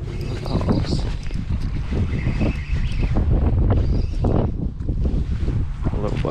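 Strong wind buffets a microphone outdoors on a windy morning by the water, rumbling and gusting close and loud, with a voice faintly mixed in.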